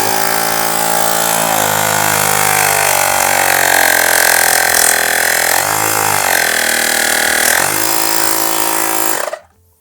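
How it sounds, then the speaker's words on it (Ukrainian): A Baseus portable car air compressor with a metal body runs loudly and close, a strong buzzing motor drone with a shifting pitch that holds steady before cutting off abruptly at the end. "виставляється е, потрібний тиск, і можемо вмикати компресор"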